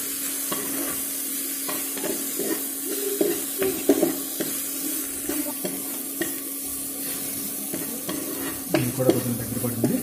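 Tamarind pulp sizzles and fries in a pan for ginger chutney, with repeated stirring scrapes and bursts of spattering over a steady hiss, fairly close and without talk.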